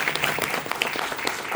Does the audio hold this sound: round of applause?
yes